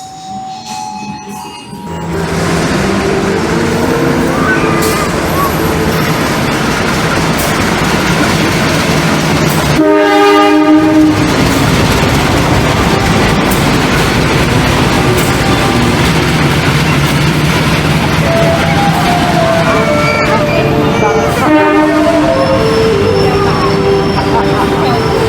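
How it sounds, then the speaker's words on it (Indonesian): Kamandaka passenger train at Poncol station in Semarang, its horn blaring loudly and repeatedly over the heavy rumble and clatter of rail cars, with a busy platform crowd in the background. "Kita tinggal nunggu kereta api Kamandaka menempatkan posisinya"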